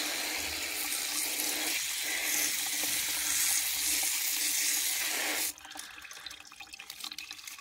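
Tap water runs hard through a cloth strainer set in a sieve, rinsing residue from old microchips; a loud continuous gush that abruptly cuts off after about five seconds, leaving quieter trickling and drips.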